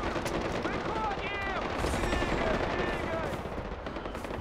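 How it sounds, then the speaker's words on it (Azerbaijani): Rapid automatic gunfire from the video game Far Cry crackles in loud overlapping bursts throughout, with voices speaking over the shooting. "Вся эта стрельба."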